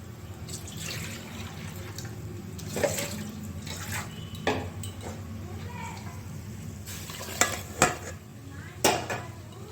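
Water being poured into a pot of dalia khichdi, a running, splashing wash with metal pot and utensil clinks and a few sharp knocks, fairly close.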